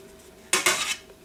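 Chopped onions drop into a kitchen mixing bowl with two quick clattering impacts, a crisp rattle against the bowl lasting under half a second, close and clear with no talking.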